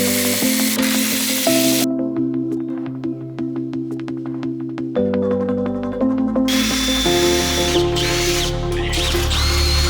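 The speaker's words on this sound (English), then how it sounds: "we're going to drill one in the middle" A power drill bores into a metal part for a 150cc turbo go-kart build. The motor whine is loud and sustained, with its pitch stepping up and down as the bit cuts and pauses, and no talking.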